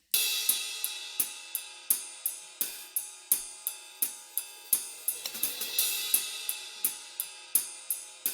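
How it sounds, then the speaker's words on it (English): A crisp hi-hat pattern loops steadily, sharp metallic ticks repeating in an even rhythm with occasional quick doubled hits, close and alone. "I'm using this hi-hat loop right here."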